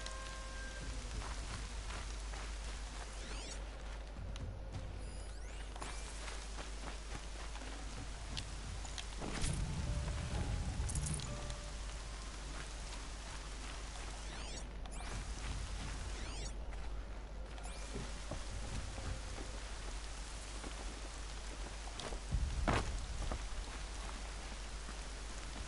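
Rain falls steadily in the Horizon video game with Aloy, a constant soft hiss of drops with a couple of low rumbling swells, quiet and alone.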